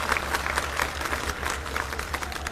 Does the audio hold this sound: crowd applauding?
yes